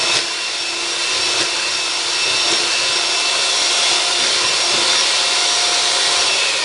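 An electric mixer runs on high, beating eggs into a creamy batter with a continuous, loud whirring hiss that rises slightly and holds steady, close by, with no voices.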